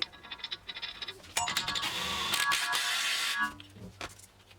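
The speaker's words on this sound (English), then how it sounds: "Alright, now we're going to put the axle nut back in." Ratcheting or impact tool tightening the axle nut on a Chevrolet Cruze 1.8 L, a steady buzzing rattle lasting about two seconds, near and moderately loud, with a few scattered clicks before and after.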